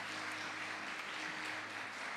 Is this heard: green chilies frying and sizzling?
no